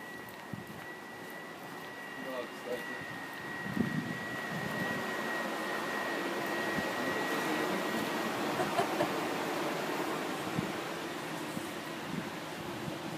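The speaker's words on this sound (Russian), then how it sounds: "Ну, видишь, вентиляторы работают." Ventilation fans at a gym-like building in Donetsk run with a steady broadband whoosh and a faint constant whine, unbroken throughout with occasional small knocks in the background.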